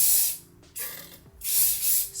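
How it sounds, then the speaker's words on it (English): Hairspray hisses from an aerosol can onto freshly curled hair in two short, loud bursts separated by a brief pause, heard up close with no talking. "spray to keep it all in, and then I'm going to spray, flip my hair and spray at the top."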